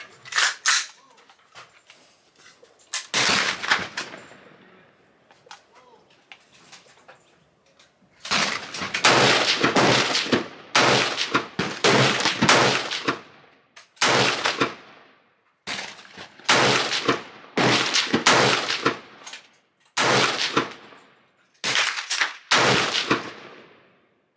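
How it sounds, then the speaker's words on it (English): A Ruger AR-556 rifle fires outdoors at a shooting range in sharp, loud reports, a few isolated shots early on, then a series of rapid bursts and spaced strings of shots with brief pauses between groups. "let's get back to the range, do some more shooting"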